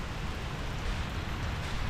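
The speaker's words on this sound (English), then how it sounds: "It's raining." Steady rain falls outdoors, a dense, even hiss of drops without pauses, close and fairly loud throughout.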